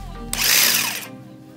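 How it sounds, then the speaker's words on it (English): Jigsaw cutting a wooden welcome sign, a loud buzzing burst of about three quarters of a second that starts abruptly and then trails off, set against a low background hum. "I have a solution, the jigsaw."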